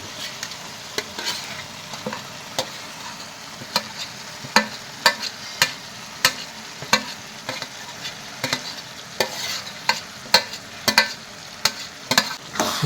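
A spoon scrapes and clacks against a pan in a steady stirring rhythm over a soft, continuous sizzle of fried fresh green turmeric being cooked.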